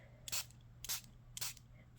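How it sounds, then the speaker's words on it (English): A spray bottle mists ink onto a piece of white card in four short, evenly spaced hisses about half a second apart, close but fairly soft, over a faint steady hum. "I remove the cap and I'm just gonna spray close to it"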